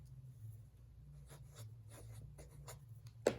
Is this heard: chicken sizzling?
no